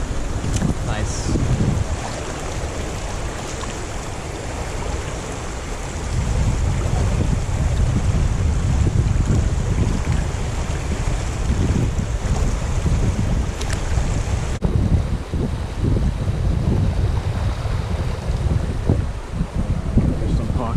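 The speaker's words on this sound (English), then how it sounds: "This wind is ridiculous. It's probably like 40-mile-an-hour gusts." Strong wind gusts of around forty miles an hour roar and buffet the microphone beside water during fly fishing, a loud continuous rumble that swells and eases with each gust.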